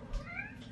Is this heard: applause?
no